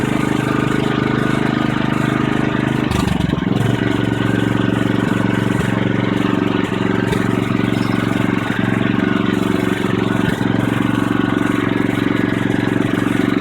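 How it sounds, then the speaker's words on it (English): A petrol generator engine runs loud and continuous, with a brief throttle change early on before settling into a steady, slowed-down drone. "Just slowed the engine down quite a bit"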